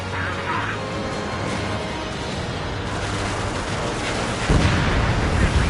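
Explosions and gunfire from a combat flight video game on PS4, a dense, loud continuous roar of blasts and rumbling fire that swells near the end, with no clear pauses.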